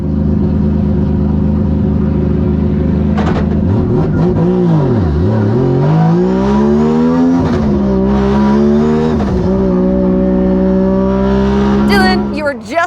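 A drift car at a Formula DRIFT event revs hard and close, its engine note swooping repeatedly up and down through throttle blips, with a brief burst of tire noise near the end.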